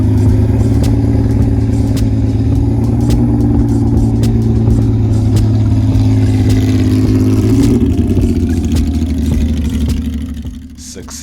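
An early Porsche race car engine idles and creeps at low revs onto a lawn, a steady throbbing hum that shifts slightly near the end before easing off and fading.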